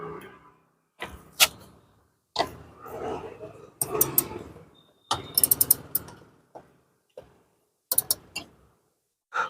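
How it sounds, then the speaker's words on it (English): Plastic press clips are prised out of a Kawasaki Ninja 300 fairing, giving a series of sharp clicks and snaps in separate bursts with quiet gaps between them, close by, plus brief handling noise. "So we have removed all the press clips."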